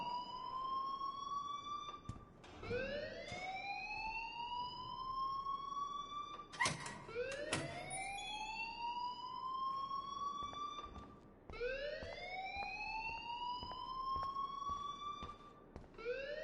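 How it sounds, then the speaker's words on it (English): An alarm in the video game Life is Strange wails in repeated rising siren sweeps, each swelling and cutting off about every four seconds, steady and fairly loud across the stretch with no voices. "please turn off that alarm since that's your job"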